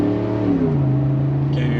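A Ford F-150 pickup fitted with Bilstein shocks drives on a test drive, its engine a loud, close, steady drone whose pitch shifts and settles as it pulls along.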